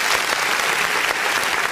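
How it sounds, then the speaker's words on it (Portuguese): A church congregation applauds during an online Sunday worship service, a brief burst of dense, steady clapping from many hands filling the room, with no talking over it. "Vamos dar uma salva de palmas para o Senhor Jesus."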